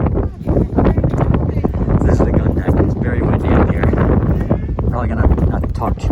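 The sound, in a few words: wind blowing into microphone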